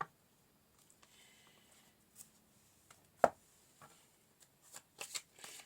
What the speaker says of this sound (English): Just pull a few more cards.